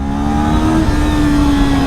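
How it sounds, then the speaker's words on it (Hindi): A Kawasaki Ninja 400 motorcycle revs and accelerates loudly and up close, its engine note climbing and holding in a steady, strong drone. "सो अब हम आ गए हैं निंजा 400 पे और भगाते हैं इसको।"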